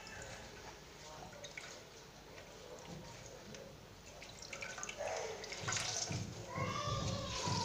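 Water being squeezed and dripping in a kitchen while cooking, a faint close trickle and splashy drips that grow louder toward the end, with a voice talking over it.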